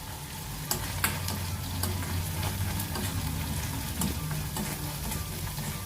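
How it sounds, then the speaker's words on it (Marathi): Coriander leaves being sautéed with onion and tomato for a butter beans masala, heard as a close, steady frying sizzle broken by several sharp spatula scrapes and taps against the pan. "काही सेकंद कोथिंबीर पण चांगली परतून घ्यायची"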